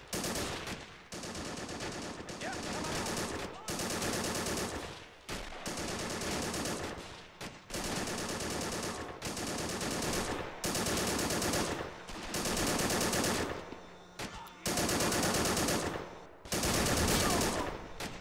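A grease gun fires in a WWII video game set in the Normandy hedgerows, loud, sharp automatic bursts that repeat in long strings separated by brief pauses, close and alone.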